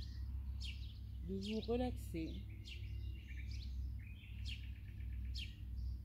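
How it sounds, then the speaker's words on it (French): Birds sing outdoors in a calm spot, several short bright chirps and trills scattered through the clip, fairly faint, while a soft voice speaks quietly under them. "profiter quelques instants du chant des oiseaux"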